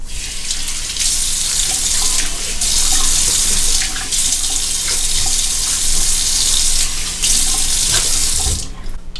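A faucet runs hard into a sink for rinsing off after a straight razor shave with a Böker Damascus steel razor, loud close gushing broken by brief interruptions as hands pass through the stream, with no talk.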